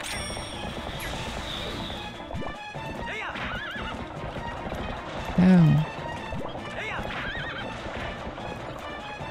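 Horse in the Twilight Princess HD game, with clip-clop hooves, a neigh, and game music and effects; a man briefly exclaims.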